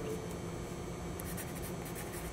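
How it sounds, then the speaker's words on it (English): Pencil scratching steadily across paper during a basic technical drawing lesson, a soft continuous close scrape with no talking. "And again, I'm going to write"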